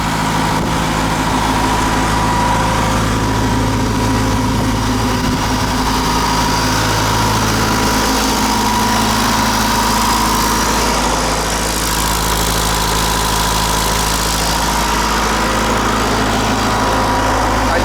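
A Trackless MT5 snowblower engine runs steadily at close range, a loud continuous drone with a constant low hum and no speech throughout.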